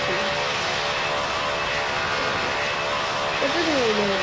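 Airplane taking off in the PTFS flight video game, a steady loud engine roar throughout with a few rising tonal sweeps near the end, sustained and close.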